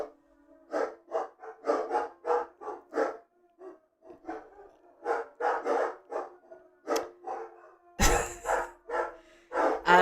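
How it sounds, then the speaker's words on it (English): Several dogs, a chihuahua among them, bark and howl in a steady series of yelps and drawn-out cries close by, with a louder burst near the end. "I don't even know why they're howling."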